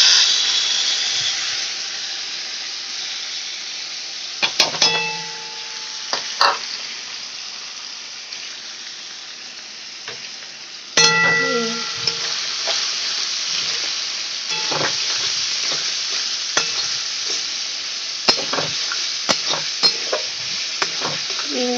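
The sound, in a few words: vegetables stir-frying in a pan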